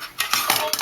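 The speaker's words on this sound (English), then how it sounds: "I'm going to take my joint compound and my spackle knife and I'm going to mix it up" A metal spackle knife mixing joint compound for a small sheetrock hole repair makes a few quick, close scraping clinks against its container in under a second.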